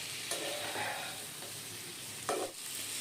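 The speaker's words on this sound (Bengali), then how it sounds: "জল ছাড়াই মশলাগুলোকে আমরা তরকারির সাথে ভেজে নেব।" Ground spices fry dry, with no water, in a potato and pumpkin vegetarian curry: a dense, constant sizzle fills the pan, lifted by two brief scraping stirs.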